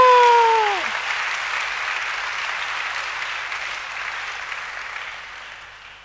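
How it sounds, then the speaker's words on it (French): A church congregation at a year-end seminar applauds, sustained broad clapping that fades slowly over several seconds, after a preacher's voice trails off at the start. "Acclamons notre roi."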